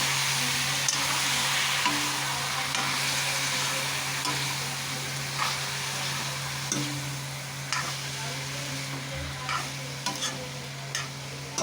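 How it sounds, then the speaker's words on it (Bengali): Boiled jackfruit being turned over in a pan, with scraping strokes at an irregular pace over a constant frying sizzle and a low steady hum from the kitchen. "আমি এই কাঁঠালগুলো এবার ঢেলে দিলাম, সিদ্ধ করে নিয়েছি প্রেসার কুকারে, আর ঢেলে দিলাম, এবার নাড়াচাড়া করে নেবো।"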